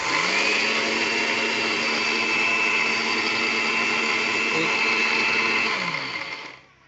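A mixer grinder runs on its first speed setting with a steady, loud motor whine that holds evenly for several seconds, then winds down and stops near the end.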